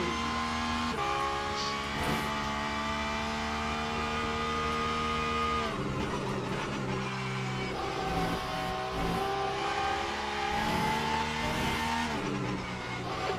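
Porsche race car engine in the Le Mans Ultimate sim racing game, droning loud and steady with harmonic whine, pitch shifting through gear changes and braking drops around the middle, a continuous close in-car sound with no talk.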